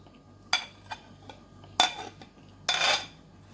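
Curd being poured and stirred into an instant rava idli mix in a bowl: three sharp scraping, clinking bursts from a spoon against the vessel, separated by quiet pauses, close by with no talk.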